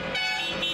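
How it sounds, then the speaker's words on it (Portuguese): Car horns honk together in a celebratory welcome for a recovered doctor leaving a regional hospital during the COVID-19 pandemic, a brief loud blare of overlapping toots with no talk. "E foi recebido com um buzinaço pela família e pelos companheiros de profissão."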